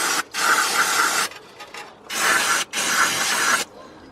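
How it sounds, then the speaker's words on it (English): Aerosol brake cleaner sprayed onto a rusty, sticking brake caliper piston in several loud hissing bursts of about a second each, separated by short pauses, close up with no talking. "Just going to spray it down with some brake cleaner first."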